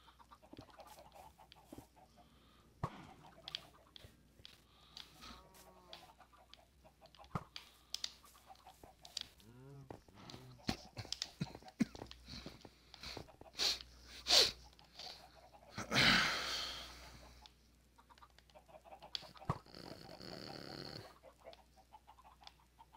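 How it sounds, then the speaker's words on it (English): In Minecraft, a repeater fires an egg that strikes a chicken, giving a run of sharp clicks and mechanical ticks, squawking chicken clucks and a brief burst of noise near the end, all without talking. "I love hearing this thing shoot out an egg and hit this chicken in here."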